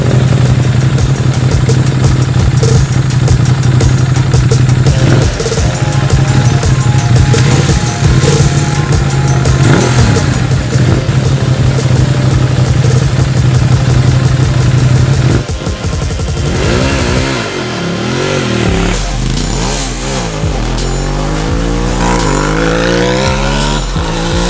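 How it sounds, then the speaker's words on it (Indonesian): A 2017 Ducati Monster 821 two-cylinder motorcycle engine roars steadily, then revs hard through several rising and falling sweeps as it accelerates, loud and close. "Ciri khas mesin 2 silinder Ducati memang terasa galak untuk berakselerasi."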